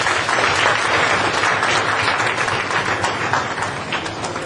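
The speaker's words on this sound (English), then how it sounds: "So kindly give her a applause" Dense, steady applause from an audience at a free SAP training seminar, filling the whole stretch at an even level and tapering only slightly toward the end.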